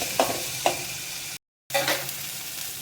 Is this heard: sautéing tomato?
yes